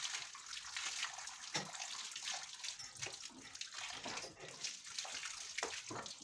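A young bull is washed with running water and foam in a barn, steady broadband hiss and splashing throughout with occasional louder sloshes.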